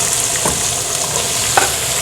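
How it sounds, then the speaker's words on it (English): Diced onions sautéing in a pan on a kitchen range under a range hood, with a continuous fairly loud sizzle and two brief clinks or stirs standing out, no speech. "I'm gonna start with my onions first,"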